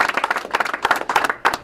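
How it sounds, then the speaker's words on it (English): Scattered clapping from a small group at a reaction event on a voter ID law ruling in Pittsburgh, Pennsylvania, uneven bursts of hand claps rising and falling over a short stretch, fairly close. "Can we give Rich Fitzgerald a round of applause?"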